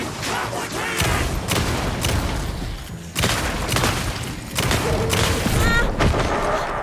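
Gunfire in the survival horror video game Alan Wake 2: dense, loud volleys of shots and booming impacts that pile into near-continuous bursts, briefly breaking off around the midpoint before resuming.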